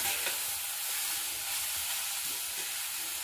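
Carrot halwa being stirred in a pan as it cooks, a steady soft sizzle and frying hiss with faint scraping stir strokes, close and continuous, no voices.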